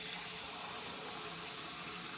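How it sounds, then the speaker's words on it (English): Tap water pours steadily into a pot of soaking beans, a constant broad hiss like a faucet filling a vessel, close and even throughout with no talking. "So we're adding 12 cups of water"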